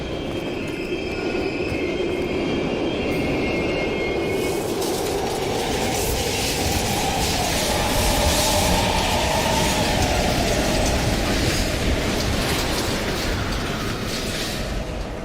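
A train passes in Call of Duty: Black Ops Cold War, a loud, continuous rumble of wheels on rails with rhythmic clatter and a thin metallic squeal, sustained and close for the whole stretch, with no talking.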